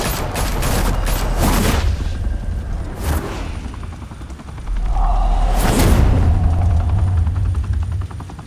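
Gunfire in Batman: The Telltale Series comes in several sharp bursts spread across the stretch, loud and near, over a steady low rumbling drone.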